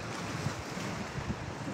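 Sea waves washing against a rocky shore, a continuous low rumbling surf blended with wind buffeting the microphone, soft and steady with a few slightly stronger surges.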